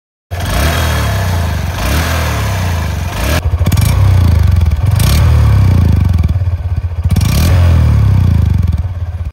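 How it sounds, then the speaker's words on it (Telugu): Engine of a 2025 Honda Shine 125cc motorcycle starts and runs with its exhaust note, a steady close thrum that rises with several throttle blips. "first impression engine sound"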